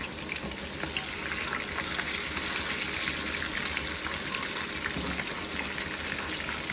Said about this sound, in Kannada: ಈಗ ಚೆನ್ನಾಗಿ ಫ್ರೈ ಆಗಲಿ